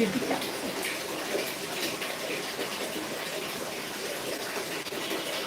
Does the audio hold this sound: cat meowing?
no